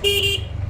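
A single short car horn toot sounds close by in Dhaka traffic, then cuts off, leaving low road rumble.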